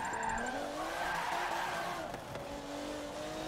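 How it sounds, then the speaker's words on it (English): A drift car in the Forza 7 video game screams near its rev limit with a steady tire skid and sliding pitch changes, loud and continuous with no talk. "the backfires and cracks of this car sound so awesome"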